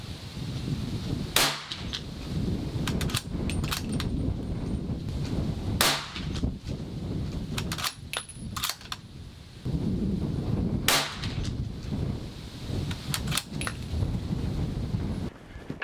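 A CZ 527 American rifle in 300 Blackout fires subsonic rounds at targets 100 yards out, with several sharp, separate reports spaced a few seconds apart over steady outdoor wind noise, with no talking.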